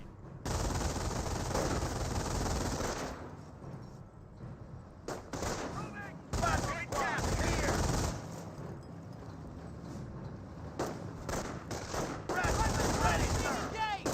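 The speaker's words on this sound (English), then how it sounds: "Now the rifle squad is seeing a bit of fire there now." A rifle squad in Company of Heroes takes heavy fire: dense bursts of machine-gun and rifle shots crackle in waves with brief pauses, and sporadic shots fall between the bursts.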